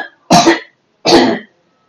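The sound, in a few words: woman coughing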